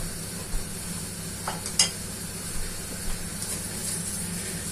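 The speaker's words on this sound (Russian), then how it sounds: "Пока яблочки жарятся, я буду, конечно, их помешивать." Apples frying in a pan, stirred now and then: a soft, steady sizzle with a few light scraping knocks from the stirring, close and fairly quiet.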